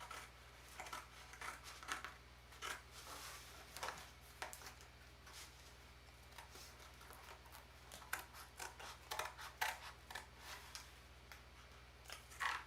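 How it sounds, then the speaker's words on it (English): Scissors snipping a square window out of a cardboard periscope box, a series of quiet crisp cuts in irregular bursts, close and faint. "I'm just going to cut in from the bottom and cut this square out"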